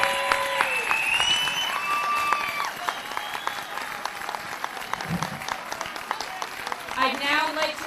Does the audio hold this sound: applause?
yes